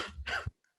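A single close cough, a short harsh burst of breath, then a brief silence with a faint trailing sound.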